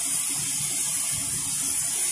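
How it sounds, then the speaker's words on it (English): Processed water flows through a PVC pipe at a chemical process field installation, giving a steady, continuous rushing hiss with no pauses. "we have here a PVC pipe where we receive processed water"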